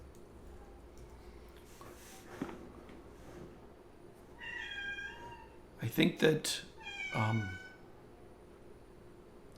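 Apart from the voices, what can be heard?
cat meowing loudly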